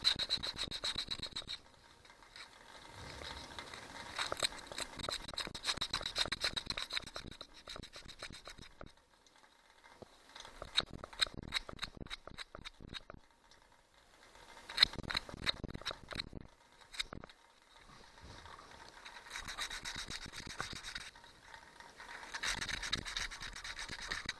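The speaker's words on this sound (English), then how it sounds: "This is a sandpaper." Sandpaper rubbing an ignition coil from a Johnson 90 hp outboard motor that had no fire in four cylinders, soft close scratchy strokes in bursts separated by brief quiet pauses.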